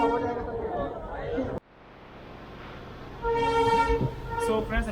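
An Uttaranchal Sampark Kranti Express train runs on after leaving Haldwani, with steady rumble and rattling, a horn sounding, and a voice heard early on.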